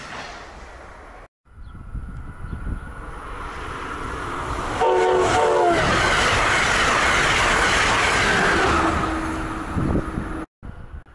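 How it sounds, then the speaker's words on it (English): Amtrak Keystone train with a cab car leading passes close along the Delaware River, a loud rushing roar with a horn blast and clattering wheels that swells, holds and then fades away. "Amtrak provides numerous trains for us to enjoy, including a Keystone train with a cab car leading."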